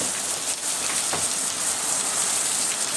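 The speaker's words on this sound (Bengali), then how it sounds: "প্রচন্ড বৃষ্টি পড়ছে।" Heavy monsoon rain pours down outside a house veranda in a steady, dense hiss on surfaces, fairly loud and unbroken, with no voices.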